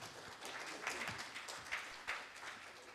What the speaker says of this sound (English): And again, a big round of applause.